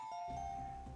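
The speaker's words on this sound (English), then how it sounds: "the exact name of the instrument is a celesta, which is, I think, hollow metal tubes being played" A celesta rings a single soft, sustained bell-like note that holds steady and fades gently, faint and alone.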